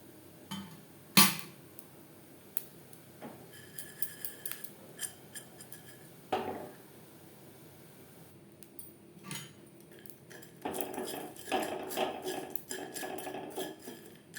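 Whole spices dry roasting in a pan over a low flame for mutton biryani, heard as scattered metallic scrapes, clinks and rustling stirs, close and fairly quiet, building into denser scraping toward the end with no talking.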